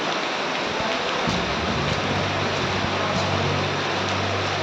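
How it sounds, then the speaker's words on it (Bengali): Heavy rain pours over a college campus during a low-pressure spell, a loud, unbroken roar of drops on surfaces with a low rumble underneath, continuous throughout and close by. "এমন বৃষ্টি দেখা যায় না।"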